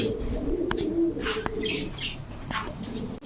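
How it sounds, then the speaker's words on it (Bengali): Fancy pigeons such as Teddy, Damascene and Budapest breeds coo in a low rolling chorus nearby, with occasional chirps and a faint flutter of wings. "চলেন আপনার কবুতরগুলো দেখাই"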